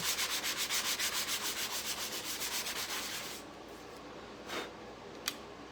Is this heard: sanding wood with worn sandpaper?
yes